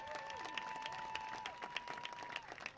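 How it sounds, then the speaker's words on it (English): Crowd applause at a high school homecoming football game in Laurel, a steady wash of distant clapping from the stands with a faint tone running through it. "How about one more raucous round of applause?"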